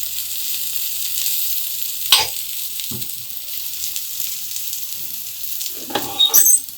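Brinjal (eggplant) fries in oil on a tawa with a steady, bright sizzle, punctuated by a few louder clinks and scrapes as the pieces are handled, with no talk over it.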